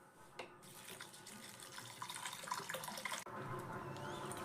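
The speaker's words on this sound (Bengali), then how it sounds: "আমি কিন্তু জল পাল্টে পাল্টে 2 থেকে 3 বার চিড়েটাকে ধুয়ে নেব।" Water running and splashing as flattened rice (chira) is rinsed in a bowl, a steady close gush of tap water with sloshing, briefly cut off near the end then resuming.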